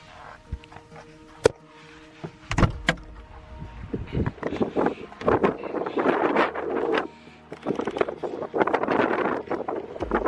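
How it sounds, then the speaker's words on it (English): Steady, gusty Icelandic wind buffets the outside of a car, with rumbling low noise and occasional knocks and rattles from the vehicle body. "It's so windy out there I can't even film."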